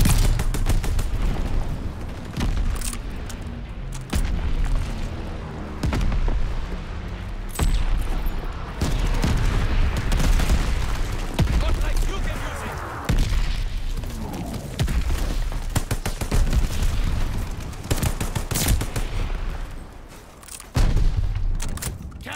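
Call of Duty Vanguard multiplayer battle with a mortar barrage, dense continuous gunfire and repeated booming explosions layered together, loud and chaotic throughout with no clear pauses.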